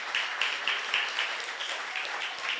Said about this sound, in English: Give these guys, applaud them.